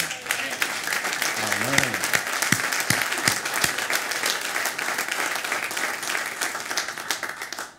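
A church congregation at a Sunday testimony meeting breaks into sustained applause, dense overlapping clapping filling the room for several seconds before tapering off at the end, while someone briefly speaks over the start.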